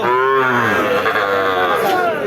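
Local breed heifer calves at a cattle market, with one close, loud, sustained moo that fills the moment against a low murmur of market noise.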